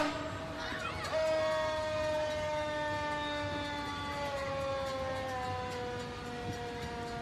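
An ambulance siren wails steadily, sliding slowly in pitch, heard from a moderate distance over outdoor crowd noise and some talking at a Christmas parade in Charleston, West Virginia.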